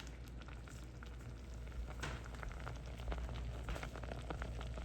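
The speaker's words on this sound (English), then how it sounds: "So we're just going to let that go ahead and simmer" Cranberry sauce simmering in a pot after the berries have burst, a steady soft bubbling and light sizzle with faint pops, alone and without talk.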